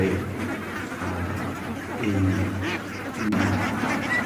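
Ducks at a roadside duck farm quack repeatedly from a flock at close range, with bursts of calls overlapping while a person talks over them.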